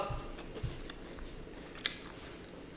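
Crisp bites and chewing of Australian-style fried chicken wings with a crunchy skin, a few distinct crunches near the start and a sharp crack later, close-miked with light background noise.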